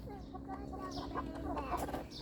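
Chickens cluck at close range while being fed for the first time on a small Thai home farm, with steady overlapping clucks throughout.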